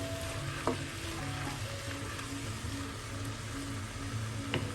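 Onions and tomatoes sauté in a pan for a creamy handi chicken curry, making a steady, soft sizzle and crackle that runs continuously on its own with a few faint spatters.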